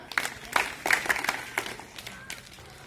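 Children clapping in unison as a welcome at a Republic Day cultural programme, a run of about eight sharp, spaced claps that start strong and thin out, with faint voices in the background.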